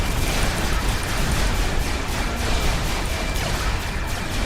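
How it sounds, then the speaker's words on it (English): A massive StarCraft 2 explosion rumbles as a continuous, loud, broadband roar with crackling debris, sustained without a break or voices. "let me show you how big the explosion of this is"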